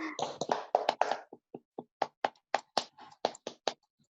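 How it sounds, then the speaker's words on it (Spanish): A small group claps in an irregular, sparse rhythm, a dozen or so distinct close claps that start clustered and then space out as the applause fades, with no voices. "Aplaudimos."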